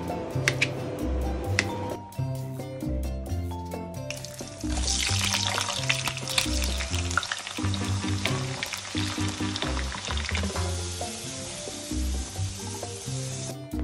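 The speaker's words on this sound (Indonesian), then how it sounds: "Lepas tu kita gorengkan garing dan angkat ke tepikan" Loud, steady sizzling of sliced potatoes deep frying in hot oil starts partway through and continues, bubbling and crackling close by, with soft background music throughout.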